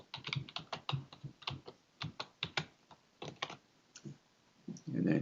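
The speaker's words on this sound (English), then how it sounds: "Then you're going to type in the password that you have for this platform." A password typed on a computer keyboard, a quick run of sharp, close key clicks in uneven bursts with short pauses between them, ending in a louder thump.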